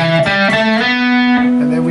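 A short distorted electric guitar phrase, a few notes sliding into a sustained bending tone, loud and up close.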